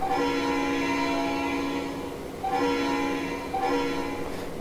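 A locomotive horn in the Trainz Railroad Simulator game blows in sustained chord-like blasts, briefly dipping and resounding twice, loud and close with no talking over it.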